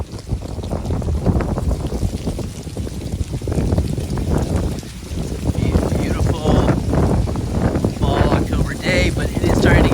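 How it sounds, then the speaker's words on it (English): Gusty wind buffets the microphone outdoors beside a 2006 Toyota 4Runner SR5 4x4 truck, a loud, steady broadband rumble that runs the whole time with brief surges. "But it is starting to get windy, so let's run in the car."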